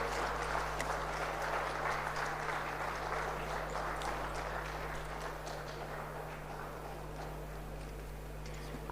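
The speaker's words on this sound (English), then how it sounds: "A huge round of applause for all the dignitaries on the stage." Sustained audience applause for dignitaries on stage at a tax practitioners' national convention in a hall, a dense even patter of many hands clapping that tapers slightly toward the end, over a low electrical hum.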